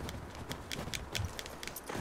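Horse hooves clip-clop at an easy walking pace in The Last of Us Part II, with a steady run of crisp, close hoofbeats on hard ground and no talk over them.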